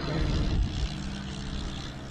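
A Birkin race car with a turbocharged four-cylinder engine runs at a Cape Town hillclimb, its loud, rumbling drone surging briefly and then holding steady, close by.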